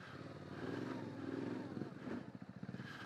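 A Yamaha Ténéré 700 motorcycle engine thumps along at an even pace off-road, its low pulsing beat steady then loping as the throttle eases off.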